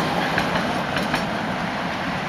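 A tram rolls past in a Latvian street, a steady broadband rumble of wheels on rails with faint clicking joints, loud and continuous throughout the short stretch.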